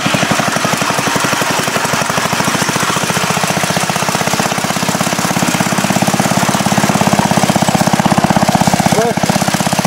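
An antique Moto-Mower lawn mower engine runs loud and close with a rapid, even chugging beat that strengthens slightly toward the end, with brief voices over it.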